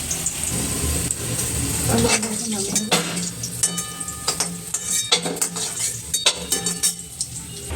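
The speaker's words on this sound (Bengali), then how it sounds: "আলুগুলো লাল লাল করে ভাজা হয়ে গেছে" Potato pieces fry in oil in a home kitchen, a soft hiss and sizzle under frequent clinks and scrapes of a metal spatula against the pan, close by and irregular.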